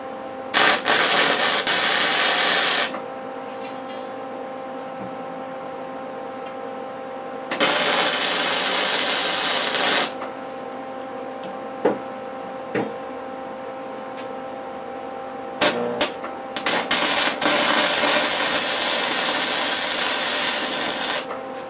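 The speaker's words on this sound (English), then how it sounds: "I'm just going to weld them washers all on" Welding washers onto metal rods while hurricane-proofing a shed: three long bursts of harsh, crackling buzz, separated by quieter gaps with a few short clicks.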